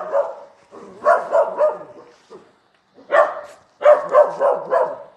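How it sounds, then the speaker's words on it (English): Dogs barking in short repeated bursts, several clusters of sharp barks with brief pauses between them, fairly close and loud, with no talk over them. "what are you guys even barking at?"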